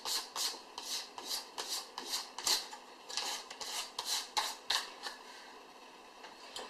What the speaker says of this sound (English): So I could keep going on for a long time sanding.